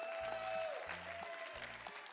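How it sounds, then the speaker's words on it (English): Audience applause for Robbie at a live comedy show, a steady wash of clapping filling the room throughout, with a sustained musical tone and bursts of low sound beneath it. "Clap loud for Robbie."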